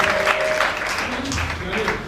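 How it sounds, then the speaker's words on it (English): A congregation claps at a prophetic church service, a dense wash of hands under a speaking voice and crowd murmur, steady throughout. "Ijoma, clap for Jesus."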